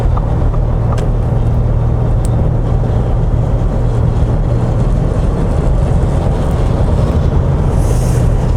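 A 2023 Ford Expedition Platinum full-size SUV cruising at highway speed, with a steady, loud low-frequency engine and road drone running unbroken throughout.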